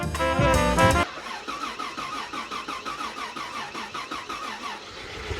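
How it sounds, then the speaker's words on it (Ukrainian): Retro Rolls-Royce six-cylinder car engine cranks loudly for about a second, catches, and settles into a steady, even idle with a rhythmic pulsing beat, close and alone. "Шість баняків як в зілу працює, десь десь такий самий звук"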